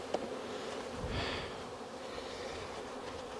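Honey bees buzzing at an open hive during queen-cell builder maintenance, a faint continuous drone with a brief swell of insect hum near the middle, close by and alone.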